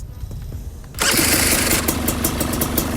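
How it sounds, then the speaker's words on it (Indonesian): A Husqvarna motorcycle engine fires up on a single press of the electric starter after about a second of low background noise, then settles into a loud, steady idle close by. "mau coba hidupin dulu buat Husky ini, untuk suaranya gimana"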